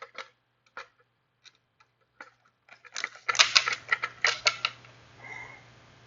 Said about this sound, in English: remove these 6 T9 Torx screws from inside here